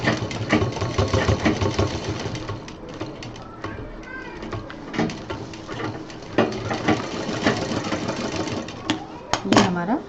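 A sewing machine stitches a baby diaper bag with elastic and a zipper, running in a steady, close rattling chatter through most of the stretch, pausing briefly and restarting, while a person talks over it.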